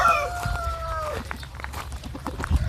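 Native chickens on a farm in Sisaket, with a rooster's drawn-out crow at the start followed by scattered clucks and rustling, fairly close, with low background noise throughout.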